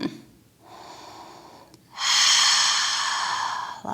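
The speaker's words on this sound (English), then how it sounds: "Lots of deep breathing." Deep yogic breaths fill a quiet room during a yoga flow: a softer inhale, then a long, loud, airy exhale lasting about two seconds, heard close and alone without talk.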